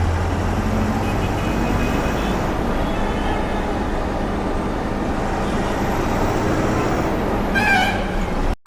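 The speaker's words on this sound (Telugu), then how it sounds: "BSR four five double nine Vizag బండి ఇన్నే ఉంది" Bus 4599 on the Vizag service pulls into Vizag junction with a continuous low engine rumble and road roar that stays steady throughout, then cuts off abruptly at the end.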